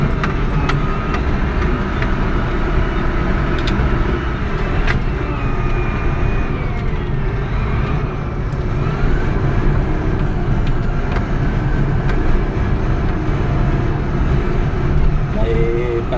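Bulldozer engine running steadily as it is operated, a loud, constant low rumble with faint metallic clanks over it, with no breaks.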